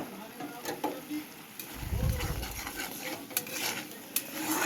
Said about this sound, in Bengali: এখন মটর দিয়ে নাড়িয়ে চাড়িয়ে ভালো করে কষিয়ে নেব।